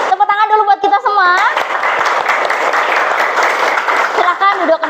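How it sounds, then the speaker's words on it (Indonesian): A group in a classroom session breaks into applause for a few seconds of dense clapping, with a voice talking just before and after it. "Oke, tepuk tangan dulu buat kita semua."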